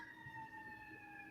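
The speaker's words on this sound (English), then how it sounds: "that was a siren going down the street." A faint, steady siren wail drifts in from a distance, its tones holding level over a low rumble of street noise.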